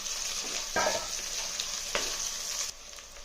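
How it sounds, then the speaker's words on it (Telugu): Cleaned dried shrimp frying with lightly browned onions in a pan, a continuous soft sizzle with a few scraping stirs of a spoon, fairly quiet and close. "దానిలోకి మనం శుభ్రం చేసి పెట్టుకున్న మెత్తాయిలు వేద్దాం వేసి కొంచెం వేయించడం"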